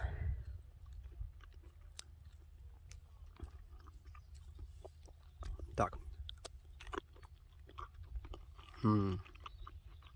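Quiet, close chewing of a juicy sweet cherry with soft crunchy bites and wet mouth sounds, followed by a brief murmur near the end.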